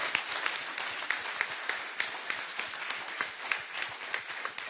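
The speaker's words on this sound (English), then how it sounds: "Let's hear a round of applause for God to make all that work out" Audience applause at a praise album release interview, a steady dense wash of many hands clapping with no voices, fairly close and even throughout.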